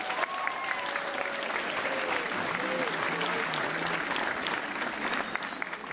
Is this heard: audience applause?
yes